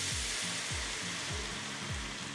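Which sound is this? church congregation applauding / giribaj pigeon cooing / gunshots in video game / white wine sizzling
white wine sizzling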